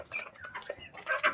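A Bahama breed hen clucking close by, a quick run of short nasal clucks and squawks over about a second.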